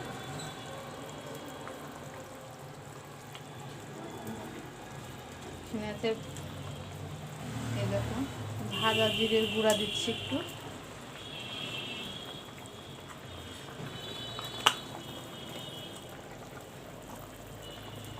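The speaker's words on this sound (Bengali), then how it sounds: "একটু ফুটুক, তারপরে আমি আর একটু মশলা দিয়ে নামিয়ে ফেলবো।" A fish curry simmers and bubbles softly in a pan, a low continuous boiling hiss with a brief louder sizzle midway as spice is added, while someone talks over it.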